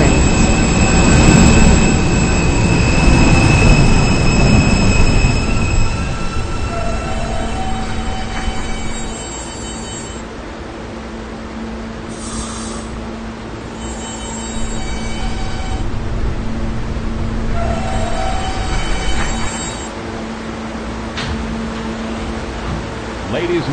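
An R160 subway train rolls and slows with squealing wheels and rumbling as it terminates at 57th Street, then settles into a quieter hum with brief high chimes or squeals.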